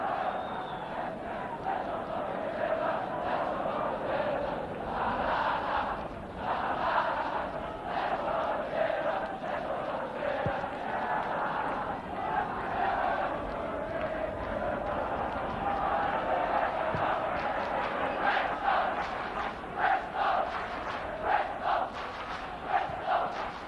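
A football crowd at Eastville Stadium in 1974, Bristol Rovers playing Villa, keeps up a broad, rolling roar of jeering and shouting, with a commentator speaking over it throughout.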